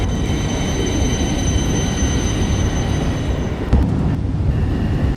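A train rolls into a station in the Trainz railroad simulator, a steady loud rumble of wagons over rails with wheel squeal and a sharp clack near the end, under a public-address style announcement voice.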